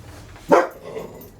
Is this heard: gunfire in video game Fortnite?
no